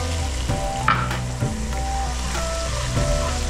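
Ginger garlic paste frying in a pan for seeraga samba mutton biryani, with a close steady sizzle broken by several spoon stirs and scrapes against the pan, no talking.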